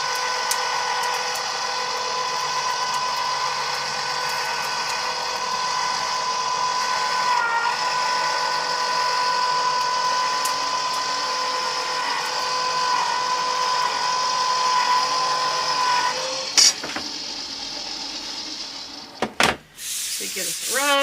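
Electric Go Big fabric cutter drawing a cutting mat through its rollers, a steady whining motor drone with a faint rubbing hiss, ending in a few clunks and knocks near the end.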